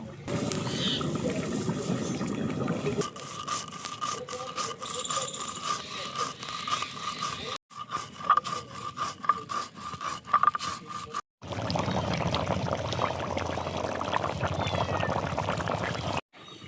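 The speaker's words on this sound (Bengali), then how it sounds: "জিরে ধুনে ভেজে রেখেছিলাম সেগুলো এখন গুঁড়ো করে নেব" An electric grinder whirs through roasted cumin and coriander seeds in three long runs separated by brief pauses, a close, loud, rattling mechanical drone with no speech.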